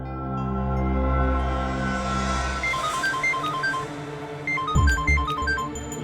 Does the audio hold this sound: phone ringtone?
yes